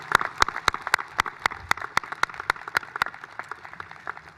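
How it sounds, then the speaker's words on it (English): Audience applause at a Class of 2020 high school commencement ceremony for graduates' senior speeches and songs, with sharp individual claps standing out over a steady crowd clapping that slowly fades. "Let's give our senior speeches and our senior songs a round of applause."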